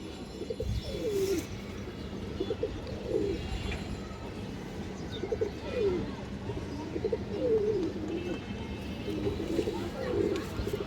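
A Lal Chulli pigeon of an old bloodline coos in a repeated soft, low rhythm over a steady hum of background noise.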